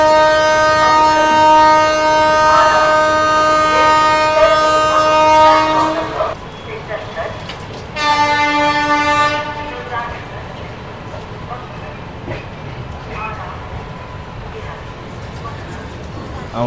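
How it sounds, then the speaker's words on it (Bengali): The 12370 Kumbha Express pulls out of Pandit Deen Dayal Upadhyaya Junction, first with a long, loud horn blast, then a shorter second blast. The low rumble and clatter of the rolling train continue underneath. "সবুজ পতাকা দেখিয়ে দিয়েছে, ট্রেন এবার ছেড়ে দেবে।"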